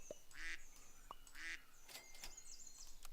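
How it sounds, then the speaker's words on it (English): Ducks quacking in Super Auto Pets, several short nasal quacks spaced through the clip alongside light game chimes and interface blips, no talk. "it's hard to ignore 3 ducks just sitting in the shop"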